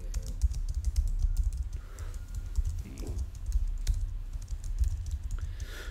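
Steady typing on a computer keyboard, a continuous run of close, dry key clicks with no pauses, heard alone with no talk over it.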